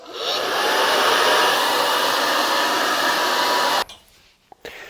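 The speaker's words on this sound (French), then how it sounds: "je vais passer un petit coup de sèche-cheveux pour accélérer ça" A hair dryer blows steadily on a freshly painted watercolour mountain scene, a loud, even whoosh that runs for nearly four seconds and then cuts off, leaving quiet handling noises.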